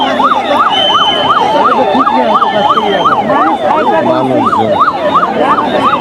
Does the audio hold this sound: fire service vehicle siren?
yes